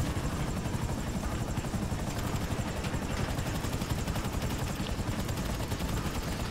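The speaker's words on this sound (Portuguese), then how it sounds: "esse helicóptero é chato" Helicopter in the Grand Theft Auto V Online video game, a loud, steady rotor chop and engine roar that fills the whole stretch without a break, with possible gunfire mixed in.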